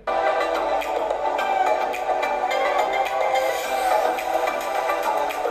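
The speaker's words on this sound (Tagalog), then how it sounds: "Ito naman yung tunog ng kanyang speakers." Music plays continuously from an Acer Nitro V laptop's small built-in speakers, thin and lacking bass, with a steady mid-range sound and no talking.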